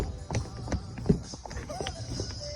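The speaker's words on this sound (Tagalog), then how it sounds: "Ito kabayo ko sila." Horses clip-clop at a rural outing: several quick, uneven hoofbeats land close by over soft background noise, with voices murmuring faintly around them.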